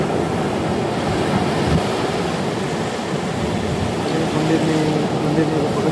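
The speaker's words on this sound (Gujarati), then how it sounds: "દરિયાનો મજા કઈ રીતના આવે છે. પાણીની ભરતી અત્યારે ફૂલ છે." Sea waves wash against the shore at full high tide near a seaside temple and cave steps at Jafrabad, Gujarat, a steady close rush of surf mixed with wind noise throughout.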